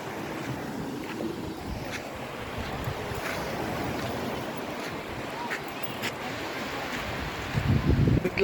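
Sea waves rolling in at Diguisit beach at high tide give a steady, broad wash of surf mixed with wind noise, swelling into a louder, rougher burst at the very end.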